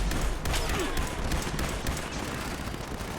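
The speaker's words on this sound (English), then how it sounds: "I'm only kind of getting a couple of shots off on each guy, making sure each kind of bullet or ammo lands on them" Rapid gunfire from enemies being shot in the Fallout 76 video game comes as a dense, continuous crackle of shots with no pauses over a few seconds.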